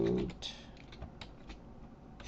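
Typing a folder path on a computer keyboard in a Linux FTP setup: a run of quick, fairly close key clacks with a few louder presses spaced through it, ending on a sharper keystroke.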